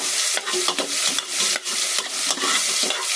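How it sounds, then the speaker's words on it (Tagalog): Garlic, onion and ginger sauté in a pan, making a loud, close sizzle with rhythmic scraping strokes of a spoon stirring every half second or so. "Gigisa lang natin itong bawang, sibuyas, saka luya."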